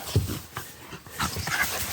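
A dog whimpers and yips softly at close range in short, uneven bursts over about two seconds, with no talking.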